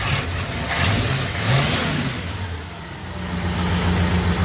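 A Ford Fairlane car engine runs close by, a loud low rumble that revs and rises, settles back, and then holds a steady idle, with no talking.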